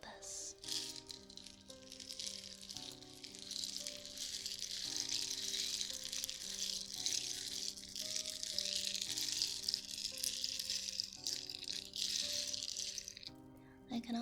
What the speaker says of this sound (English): And the rain stick sounds like this.